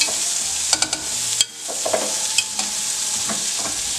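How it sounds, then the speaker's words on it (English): Green beans fry in melted butter in a pan, a steady loud sizzle broken by several sharp scrapes and clinks as they are stirred around. "Then add your green beans and mix them around occasionally."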